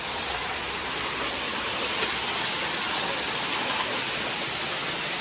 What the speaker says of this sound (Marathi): इथं मोठी आहे ह्यो धबधबा. जाम आवाज येतो इथं. पाणी बघा असं पडतं.